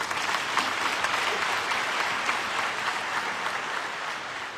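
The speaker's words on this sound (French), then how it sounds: "On peut les acclamer très fort." A church congregation at a Sunday Easter-season Mass applauds pilgrims arriving from Port-Bouët, producing a dense, sustained burst of clapping from many hands that fills the room and fades slightly at the end, with no speech over it.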